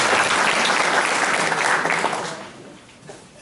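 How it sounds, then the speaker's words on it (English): Applause from a community audience at a meet-the-candidates night, a dense, loud wash of many hands that holds steady and then thins and fades toward the end. "We could applaud anyway."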